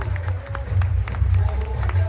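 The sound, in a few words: audience applause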